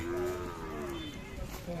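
A Khillar cow moos at a village livestock fair, one long, close, drawn-out low call that slowly falls in pitch, with crowd noise behind it and a person's voice briefly near the end.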